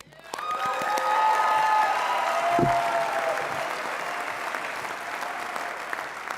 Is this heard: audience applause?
yes